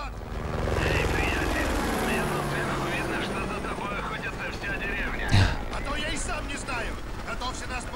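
A helicopter in Call of Duty: Modern Warfare 2 Remastered gives off a loud, steady rotor and engine roar, with players talking over it and a sharp bang partway through.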